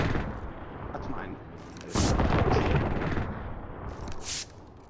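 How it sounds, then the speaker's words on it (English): Precision airstrike explosions in a video game: heavy booming blasts and crackling fire that swell at about two seconds, followed by a shorter burst near the end, with players' voices faintly present. "Allied precision airstrike incoming"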